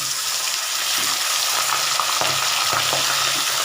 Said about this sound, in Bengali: তেলটা গরম হয়ে গেছে দেখো এবার মাছটাকে ছাড়ছি আমি